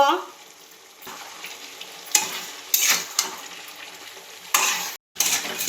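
A spoon stirs a sizzling Bengali ridge gourd and fish curry in a hot pan with Kashmiri chilli powder and cumin. Oil crackles steadily while the spoon scrapes in short, repeated bursts close by.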